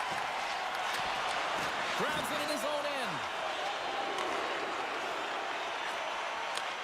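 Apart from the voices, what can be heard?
home crowd jeering a player in a hockey video game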